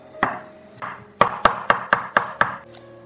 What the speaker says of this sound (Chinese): 将猪肉切一下剁成末